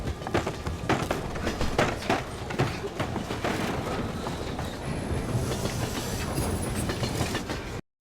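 A moving train clatters along its rails, with a constant rumble under rhythmic clicking wheel joints and a thin metallic squeal creeping in toward the end, fairly loud and close, a faint voice briefly under the noise.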